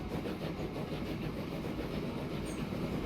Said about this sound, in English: There's the second train.